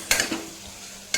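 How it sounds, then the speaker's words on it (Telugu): Mutton keema with turmeric is stirred in a pan, giving a brief scrape of a utensil against metal and then a second clink about a second later, over a faint sizzle. "పసుపు వేసి కూడా ఒకసారి కలుపుకోవాలి."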